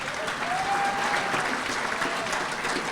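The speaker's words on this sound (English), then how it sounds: "round of applause for him" An audience at a workplace recognition gathering gives a round of applause, with steady, moderately distant clapping and a faint vocal cheer or murmur near the start.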